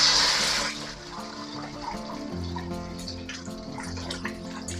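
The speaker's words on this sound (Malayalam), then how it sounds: "ബീറ്റ് ചെയ്ത് വെച്ചിരുന്ന മുട്ട നമുക്ക് ഇതിൽ ഒഴിച്ചു കൊടുക്കാം" Beaten egg poured into hot oil in a Chinese wok for egg fried rice, giving a sharp hissing burst that eases into a steady, close sizzle with no talk.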